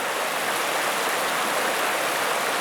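Rushing creek rapids on North Sylamore Creek in Arkansas, a steady, dense wash of flowing water close by that holds even and loud throughout with no voices.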